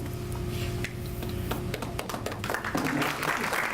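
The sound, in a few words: audience applause at police awards ceremony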